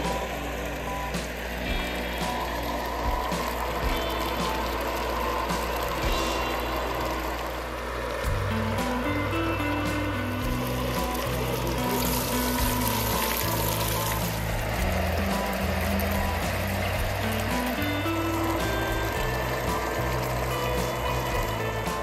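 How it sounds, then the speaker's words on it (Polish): A well pump runs with a steady mechanical drone while water gushes and splashes continuously, a rushing flow that keeps going without pause. "włączamy switch pompy, zobaczymy, jak będzie leciała woda"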